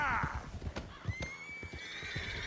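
A horse in Red Dead Redemption 2 lets out a loud whinny. Hoof clip-clops and scuffling follow, and a higher, thinner whinny trails off behind them.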